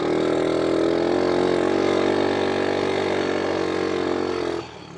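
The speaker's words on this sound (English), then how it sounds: "This is a little bit louder than your standard Recon because before I got it, somebody put a full HMF exhaust" A loud four-stroke Honda Recon ATV engine fitted with a full HMF aftermarket exhaust idles steadily with a deep, throaty exhaust rumble, then cuts off abruptly near the end.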